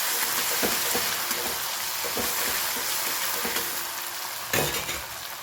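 Garlic cloves and two green chillies stirred in a hot pan, sizzling loudly and steadily up close. A spoon scrapes through the sizzle in a loose rhythm, with a louder clink near the end.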